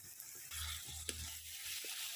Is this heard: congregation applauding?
no